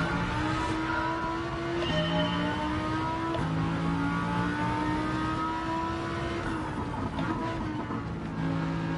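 Audi R8 V10 race car in Gran Turismo 7 at Trial Mountain, its engine droning loud and steady with repeated revving shifts and gear changes, heard from the cockpit with no talk.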